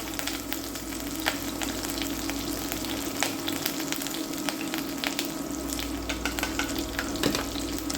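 Spice mix sizzles and fries steadily in a curry pan for a homemade Pepper X vindaloo, with soft scraping stirs cutting through the continuous hiss.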